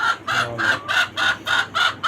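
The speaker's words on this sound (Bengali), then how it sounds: "আর এইটা হচ্ছে আপনার ওই সাদা আরেকটা মোরগ দেখলেন" Rooftop chickens with a white rooster nearby, giving six or seven loud, evenly spaced clucking calls in a steady rhythm, close and with no talking.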